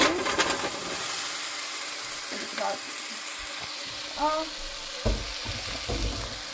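Potatoes sizzling in a hot pan right after being added, a crackling frying sound with occasional stirring clinks and soft scrapes, fairly quiet and steady.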